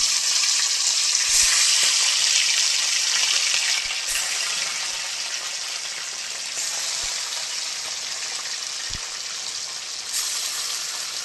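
Steady, loud sizzling of fish frying in hot oil, a dense hiss running throughout with a few soft clinks and no talking.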